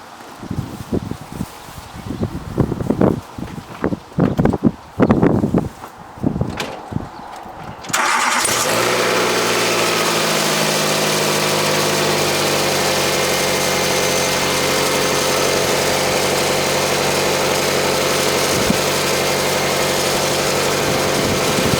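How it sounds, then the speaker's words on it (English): A few seconds of rustling and handling give way to a Nissan Micra K12 engine, with a blocked catalytic converter, cranking, catching and settling into a loud, steady idle that continues to the end. "I'm just going to start the engine up quickly."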